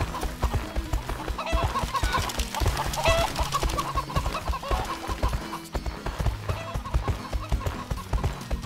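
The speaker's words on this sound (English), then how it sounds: "Get the corn before those chickens eat it all!" Chickens clucking in the horse-riding video game My Horse & Me, a busy layered mix of repeated clucks and game sounds running steadily throughout with no pause.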